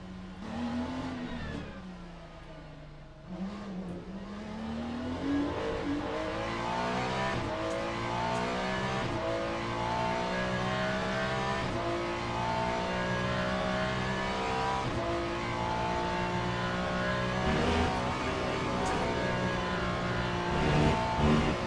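BMW GT3 race cars in the Le Mans Ultimate sim racing game at Spa, with a loud engine note climbing and dropping through gear changes, steady and continuous.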